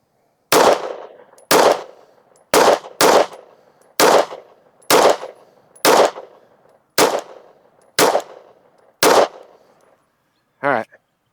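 Ten loud pistol shots from a Sig Sauer 365 XL firing PMC Bronze ammunition at an outdoor range, spaced roughly a second apart in a steady string, each a sharp crack with a short decay, followed by a brief faint sound after the last shot.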